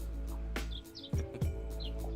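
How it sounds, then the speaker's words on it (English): Bird chirps heard outdoors: a few short high tweets scattered over a low steady hum, moderately faint, with a couple of low thumps in between. "I hear some birds chirping."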